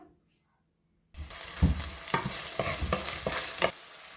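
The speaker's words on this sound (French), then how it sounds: "Je vais commencer par faire revenir l'oignon dans un peu d'huile" After a second of near silence, onion drops into a little oil in a large, deep paella pan and bursts into loud sizzling, with repeated scraping stirs close by.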